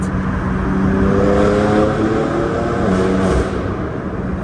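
A BMW M4 engine revs hard and loud in a tunnel, its rising roar echoing and booming, then easing off near the end.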